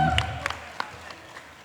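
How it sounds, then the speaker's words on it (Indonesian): Scattered, fairly faint applause from a talk show audience at an event with Polda Metro and IMI DKI speakers; a few claps rise briefly and then thin out over under two seconds. "Tepuk tangan dulu dong."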